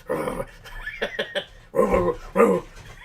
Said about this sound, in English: She almost sounds like a dog when she chases after her toy.